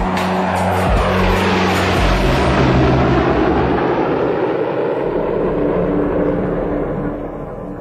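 A B-2 stealth bomber flies overhead, its loud, broad jet roar holding steady for most of the stretch before fading slightly at the end.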